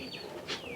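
Pigeons in a loft giving soft cooing calls, a brief faint murmur with a brighter call near the middle, no talk.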